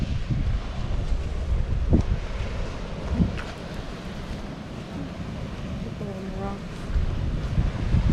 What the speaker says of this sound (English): The waves are a little rough here.